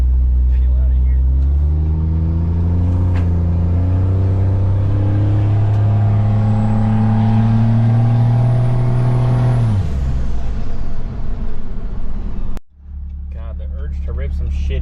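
Cummins diesel truck revs hard, the engine climbing in pitch through several gear steps for about ten seconds before dropping off, then a sharp knock and a voice as the roar fades.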